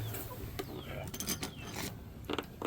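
A ratchet with a 14mm socket loosens the rear brake bolts on a 2000 Dodge Ram 1500 5.2, giving short bursts of metallic clicking near the wheel, with a louder burst of clicks near the end.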